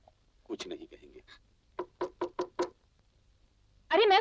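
A run of four quick knocks on a door in a domestic drama scene, preceded by softer raps, with someone speaking briefly before and a voice after.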